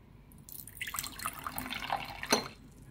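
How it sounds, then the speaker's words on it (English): Sodium hydrogen carbonate solution is poured into a beaker during a paper chromatography experiment, a short trickling, splashing pour that rises and fades, ending with a small clink. "I'm going to pour it into a beaker."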